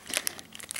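Paper crinkling and tearing as a mailed letter is opened by hand over a piece of cardboard, soft and close, with no talk.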